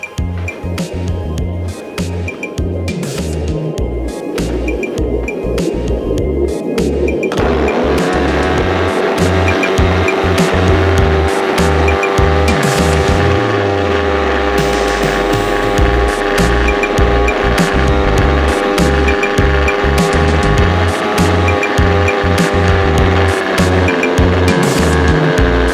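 The small nitro engine of a large model ekranoplan starts and runs, a loud buzzing drone that climbs in pitch after a few seconds and holds a high steady whine, with rhythmic pulses underneath.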